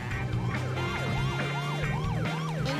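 A video game police car siren wails in rapid rising-and-falling sweeps, repeating steadily for about three seconds over a constant low engine-like drone, fairly loud and with no voices.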